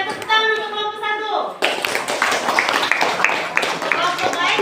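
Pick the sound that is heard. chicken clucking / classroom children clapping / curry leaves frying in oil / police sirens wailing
classroom children clapping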